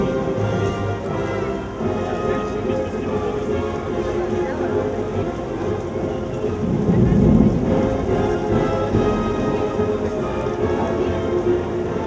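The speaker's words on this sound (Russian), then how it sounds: "прозвучал гром и пошел далеко не теплый дождь" Thunder rumbles over steady rain falling at an outdoor orchestra concert in Yekaterinburg on Russia Day, the downpour loud and continuous with one heavier roll of thunder midway, and a voice speaking over it.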